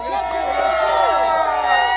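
A large crowd at a Donald Trump rally in the Bronx, New York cheers and whoops, with many overlapping voices forming a loud, steady roar close by.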